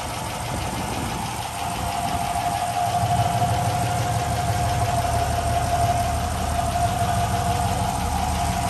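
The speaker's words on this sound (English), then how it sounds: "Engine running really sweetly." A Rover P5B Coupe's 3.5 litre V8 engine idles steadily and smoothly nearby, a continuous low rumble with a faint hum, no voices.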